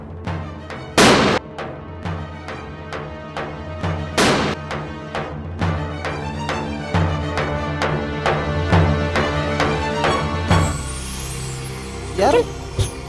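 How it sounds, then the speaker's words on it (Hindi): Several tyres burst together, heard as a chain of sharp booming bangs with two especially loud blasts early on, followed by a rapid run of smaller pops and a final noisy hiss. "एक साथ फट गए सारे टायर।"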